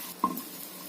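Garlic, ginger and chillies sautéing in a spoonful of oil in a hot kadai, with a faint, low sizzle broken once by a sharp single clink of a utensil.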